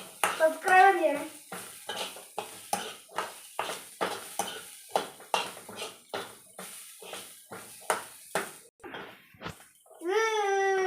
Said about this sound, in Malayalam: ഇത് ഇച്ചിരി വഴണ്ട് വന്നിട്ടുണ്ട്. നമുക്ക് കുറച്ചും കൂടെ വഴറ്റണം.